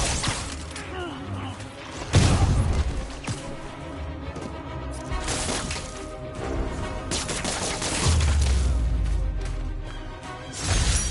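Gunfire from criminals in the Spider-Man PS4 video game crackles in rapid bursts with shattering impacts, heavy hits near 2 s and 8 s, mixed with game music and effects.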